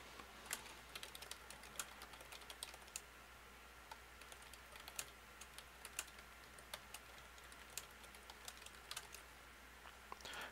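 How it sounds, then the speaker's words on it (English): Quiet keystrokes on a computer keyboard tap out an irregular run of clicks over about ten seconds, close and soft with no voices. "And then let's type a short description."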